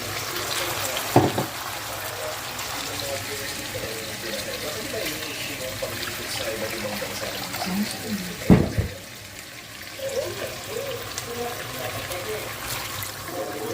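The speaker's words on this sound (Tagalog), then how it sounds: "So, haluan po natin ng konting tubig lang." A splash of water poured into a pot of humba as it cooks, with a couple of brief pouring bursts over a low stove and kitchen background while someone talks.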